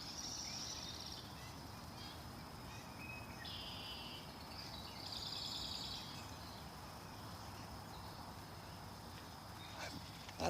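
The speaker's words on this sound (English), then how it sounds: "Marsh wrens are singing back and forth." Marsh wrens sing back and forth in a New Jersey marsh, their faint buzzy trills rising over a soft wash of insect chirping and distant outdoor ambience.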